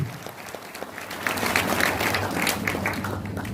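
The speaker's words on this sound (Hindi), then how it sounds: "दोनों हाथ को उठा के आपको बजाना है जोरदार तालियों के साथ।" Audience applause for poet Rajesh Jain Rahi at a Hindi poetry gathering, dense clapping that swells after a softer first second and holds steady and full to the end, with a low steady hum underneath.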